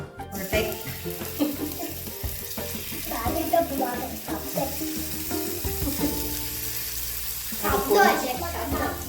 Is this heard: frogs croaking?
no